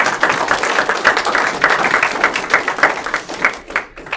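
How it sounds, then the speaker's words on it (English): An audience claps for students' parents at a letter of intent signing day at TCAT-Pulaski, loud close applause with a dense, uneven rhythm that thins toward the end. "I'd like you to give your parents another round of applause"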